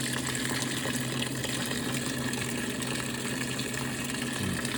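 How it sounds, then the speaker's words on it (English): Hot water rushes into a top-loading washing machine filling for a load of whites, a steady loud gushing hiss with a low mechanical hum beneath, continuous and without talk. "So here it is, hot water for a load of whites."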